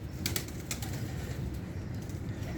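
Pigeons, a dub pair kept as fancy sky pigeons, cooing low and continuously nearby with a few quick bursts of wing flapping.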